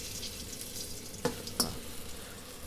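Plantain sears in a hot pan with a steady, soft sizzle, broken by two brief sharp clicks partway through.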